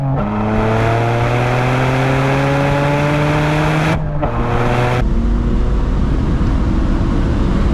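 Turbocharged car engine floored in second gear while drifting, a loud, close roar that climbs steadily in pitch, cuts briefly as the throttle drops near the four-second mark, then returns as a rougher, lower drone.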